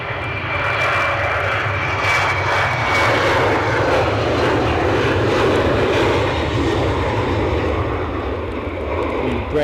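An Embraer 190 jet at Edinburgh airport roars loudly and steadily in gusty crosswinds and wet weather, its engine noise filling the whole stretch with no talk.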